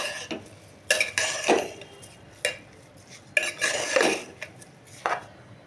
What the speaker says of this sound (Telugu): ఇప్పుడు మొత్తం బాగా మిక్స్ చేసుకోండి.